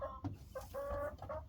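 A Brahma hen sitting on eggs gives several close, drawn-out clucks and a low grumbling call, quiet but distinct, with no voices over it.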